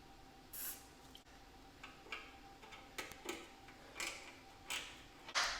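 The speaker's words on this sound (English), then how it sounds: "I'm gonna spray some lube on them." Short hissing bursts of spray lubricant hit rusty parts on a 1972 Harley-Davidson Shovelhead motorcycle, about six separate spritzes spaced a second or so apart in a quiet workshop.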